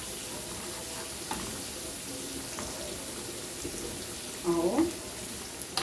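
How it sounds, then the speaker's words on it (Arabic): Garlic frying in a pan for an eggplant dish, a soft continuous sizzle with a brief louder burst of stirring near the end, close but fairly quiet, with a short spoken word. "هنحمره الثوم عشان يبقى جاهز معانا"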